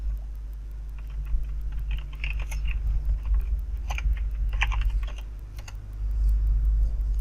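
Typing on a computer keyboard while searching online for Rufus bootable-drive software, with soft, irregular clusters of key taps over a steady low hum, close and fairly quiet.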